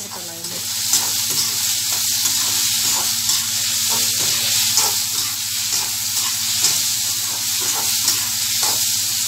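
Chopped vegetables fry in a pan for rava kichadi, giving a steady, close sizzle with faint stirring scrapes throughout and no voices.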